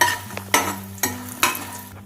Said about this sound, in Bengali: বড়িগুলোকেও একটু ভেজে এভাবে হালকা করে ভেজে নিয়ে